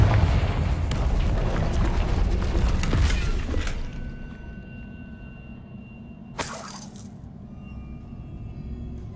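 A blasting spell explosion in Hogwarts Legacy: a loud rumbling burst with debris and crackle that fades after a few seconds, followed later by a sharp single impact and a quiet ringing tail.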